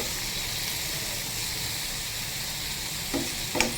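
Mixed vegetables sizzle and hiss steadily in a hot pan during stir frying, with a couple of brief stirring clatters near the end; no talking.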